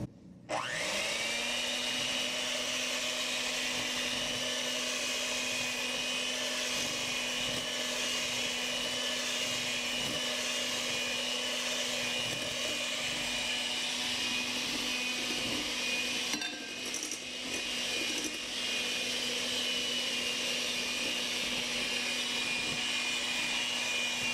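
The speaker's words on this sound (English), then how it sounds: "And we're gonna mix. Just like when you're creaming butter and sugar to make any other cake, right?" An electric mixer creaming carrot cake batter in a home kitchen, starting abruptly and holding a loud, steady motor whine with a brief dip partway, no talking.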